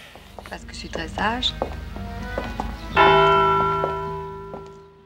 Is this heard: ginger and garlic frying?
no